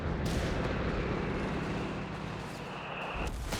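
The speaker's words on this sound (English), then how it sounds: "Heavy mortar just chipping away." Heavy mortar fire in the video game Company of Heroes 3, a dense rumbling barrage of distant booms that holds steady throughout with no voices.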